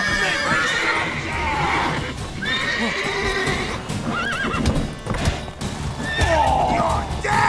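A horse in The Witcher 3 video game whinnies loudly several times over clip-clopping hooves, with rising and falling neighs and game sounds in the background.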